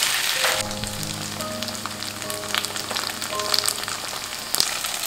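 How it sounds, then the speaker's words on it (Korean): Korean pancake batter sizzles and crackles steadily in hot oil over low heat, a close, continuous frying hiss with scattered pops and no voices. "기름 위에 부침개 반죽을 올려주고 약한 불로 부쳐주세요."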